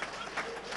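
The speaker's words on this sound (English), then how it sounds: "See, the applause tells you." Audience applause at a tech centre inauguration event, a continuous wash of clapping from a crowd, steady and moderately distant for under a second.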